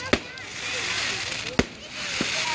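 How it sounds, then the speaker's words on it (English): Fireworks go off on bonfire night with a few sharp distant bangs over a constant crackling hiss, and people can be heard talking. "Hey look, there's the firework thing."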